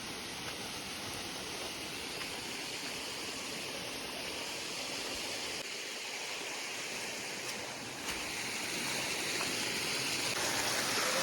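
Steady broadband rush of a small village waterfall carrying little water, a continuous even splash heard up close with no speech, level rising slightly near the end.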